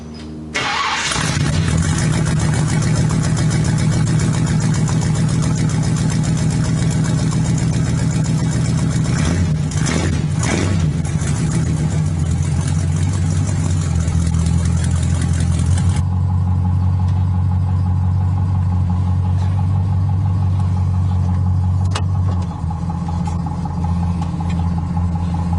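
A Lincoln Continental fitted with a swapped AOD automatic transmission starts up and drives, its engine running loud and steady close by, with a couple of revving pushes and a smoother, lower drone later on.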